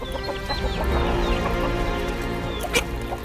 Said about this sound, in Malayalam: എമ്മാതിരി കോഴികളെ നോക്കിയൊക്കെ